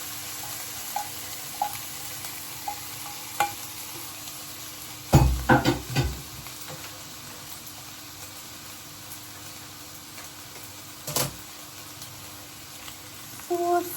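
Chicken pad thai noodles stir-fry in a hot pan with a steady sizzle, while a utensil scrapes and clatters in a few quick bursts, close by.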